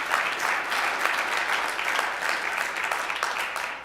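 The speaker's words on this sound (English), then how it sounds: "When people are clapping, I get it" A room of people at a county commissioner meeting claps steadily throughout, a continuous moderate wash of applause with no speech on top.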